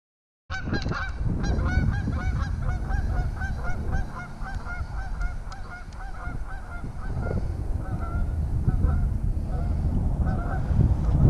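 A flock of geese at a pond honks continuously and loudly, many overlapping calls, with wind rumbling underneath.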